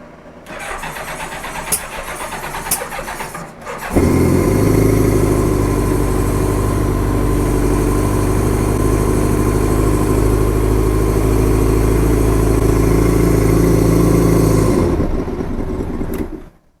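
A 1986 Honda Goldwing GL1200 motorcycle engine cranks over briefly, catches and settles into a steady, loud idle up close, then cuts off near the end.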